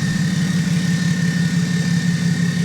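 BMW X5d diesel engine idling steadily with the new exhaust part fitted, a loud, rough, raspy low rumble that holds constant throughout with no voices.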